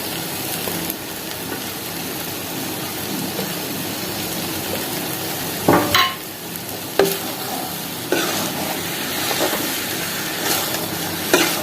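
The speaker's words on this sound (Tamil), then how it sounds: "தூவிட்டு லேசாக வதக்கி விட்டுக்கலாம்" Prawn gravy with coriander leaves being lightly sautéed, a steady low sizzle under occasional sharp scrapes and knocks of a spoon against the pan, close up with no talking.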